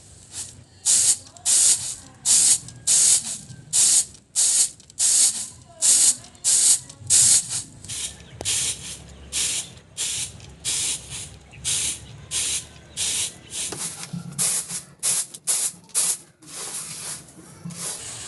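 Rice being winnowed in a basket to remove husks for a rice cake. Rhythmic rustling swishes repeat closely, with each toss giving a short sandy hiss and brief pauses between them.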